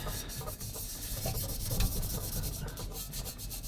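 Barkeepers Friend cleanser being scrubbed onto a tarnished saxophone, a continuous gritty rubbing with quick back-and-forth strokes, close and fairly quiet, with no talking.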